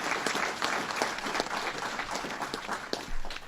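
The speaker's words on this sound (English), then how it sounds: "we applaud you, sir" A crowd at a public event for the Salamanca mayor applauds in a dense, even wash of clapping that holds steady through the whole clip.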